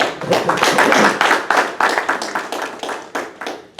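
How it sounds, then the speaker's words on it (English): A small audience at a legislative update meeting claps steadily and briskly nearby, individual hand claps distinct, gradually thinning out toward the end. "come on, clap it up for that first half."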